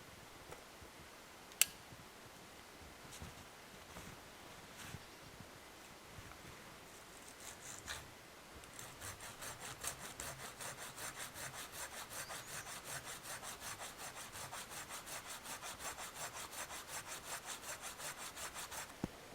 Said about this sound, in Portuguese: Neste caso vou usar a minha serra.